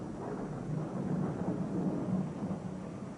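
A thunderstorm rolls on with a continuous low, heavy rumble and hiss of rain, steady and fairly loud throughout, with no voices.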